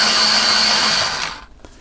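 A colored pencil spins in a sharpener with a close, high, buzzing whir for just over a second, then cuts off into quiet.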